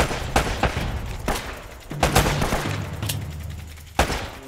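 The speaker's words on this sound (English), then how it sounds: "Oh, I shot him in the crotch." Gunfire in Uncharted: Drake's Fortune, a scatter of sharp, irregular shots with one or two close bursts and a low rumble beneath, loud and near, with no talk over it.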